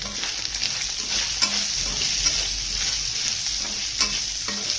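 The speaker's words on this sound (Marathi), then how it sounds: "त्याच्यात 2 कांदे चिरलेले ते टाकते. ते लाल करून घ्यायचे छानपैकी." Two chopped onions fry in oil with curry leaves in a pan, a constant close sizzle punctuated by occasional light stirring scrapes, with no one speaking.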